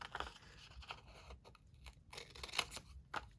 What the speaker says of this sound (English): I've got this fin, so I'm just gonna cut this in